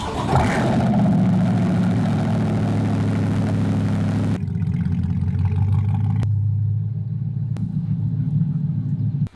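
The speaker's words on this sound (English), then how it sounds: "We'll do a cold start on the Soul Performance exhaust on my C8" Chevrolet Corvette C8 with a Soul Performance exhaust cold starting: a loud burst and rev at first, then settling into a steady, deep idle rumble that continues to the end.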